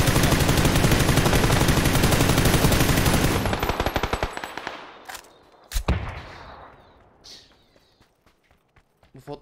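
Rapid automatic gunfire in the video game PUBG rattles out loudly, then breaks into scattered sharp shots and echoing bursts that fade toward the end.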